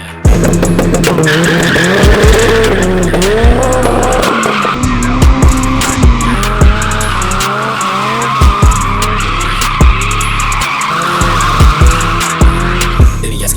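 Turbocharged VAZ 2101 driven hard, its engine revving loudly up and down while the tires squeal and skid continuously, close and dominant throughout.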